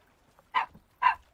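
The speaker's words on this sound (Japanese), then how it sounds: "森から犬出てきたやん。" Two short barks from a dog in a game world, sharp and fairly close, separated by about half a second of quiet, with no talking over them.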